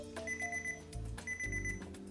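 A timer alarm sounds as time runs out during a drawing session, giving two bursts of steady electronic beeping with a low buzzing underneath. It sits close and clear, and no one talks over it.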